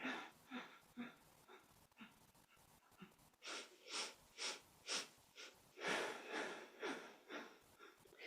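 Rapid, forceful rhythmic exhalations of Kapalabhati breath of fire during a kundalini yoga kriya, starting as quick sharp puffs and becoming stronger, evenly paced bursts, close and fairly quiet, with no talk.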